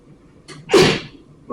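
A person sneezes once, a sharp close burst with a short intake of breath just before it, against a quiet room.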